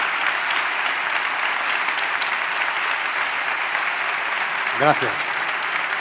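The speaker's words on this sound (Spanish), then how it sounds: "os voy a pedir un fuerte aplauso para ellos" Steady audience applause fills a literary café event, a dense continuous patter of many hands held at even loudness throughout, with a brief spoken word of thanks near the end.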